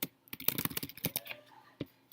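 Quick bursts of typing on a computer keyboard, a short run of close, soft clicking keystrokes followed by a brief pause and a couple more taps.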